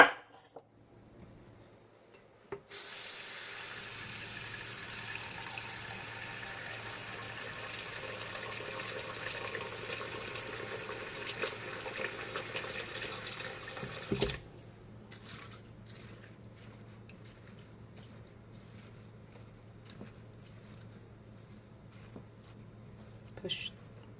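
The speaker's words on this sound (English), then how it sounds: "Add some water." Tap water pours into a sink in a steady, even rush that runs for about twelve seconds, then cuts off to a quiet room.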